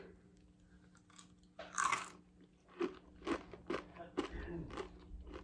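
Close-up crunching as crisp roasted chickpeas are bitten and chewed, a loud first bite followed by several sharp, rhythmic crunches.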